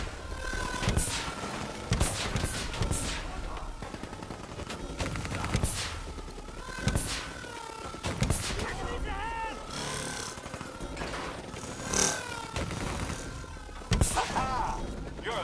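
Repeated video-game gunfire shooting down bats, sharp loud shots recurring every second or two over a busy game soundtrack, with voices talking between bursts.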